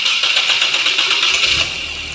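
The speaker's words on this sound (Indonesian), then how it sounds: "maka motor starter akan bekerja dan engine akan hidup, akan memutar flywheel." An engine's starter motor cranks loudly and close up, then the engine catches and settles into a steady running hum near the end.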